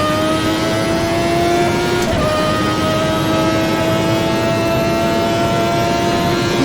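A 1991 Formula 1 car's engine holds a loud, steady high-pitched note close by, with a quick throttle blip and pitch shift around the two-second mark before settling back into the sustained drone.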